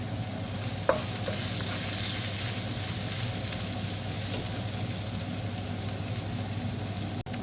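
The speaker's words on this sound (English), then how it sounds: "Just let that cook slowly, so you can turn the gas down if it's too hot, and you just let the onions soften." Onions frying slowly over gas in a pan for a gnocchi dish, an even, steady sizzle throughout with a single soft tap early on and a brief click near the end.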